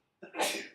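A single sharp sneeze, fairly soft, bursting out after a moment of silence and trailing off quickly.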